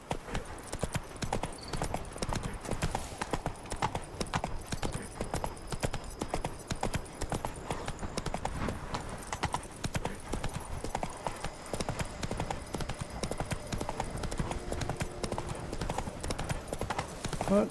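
Roach, the horse in The Witcher 3, trots with steady, rhythmic clip-clopping hooves that continue throughout, close and even in pace under quiet game ambience.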